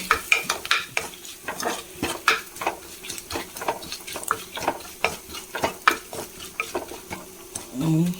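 Turmeric and chili powder being stirred in a pan for a simple lunch dish, a steady run of close, sharp spoon scrapes and clinks over a soft background sizzle, with no talking.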